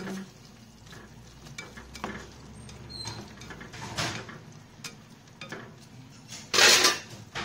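Spaghetti sauce with pepper, a stock cube and salt is stirred in a pot, giving soft scraping and clinking strokes in an irregular rhythm, with one louder burst near the end; no one speaks.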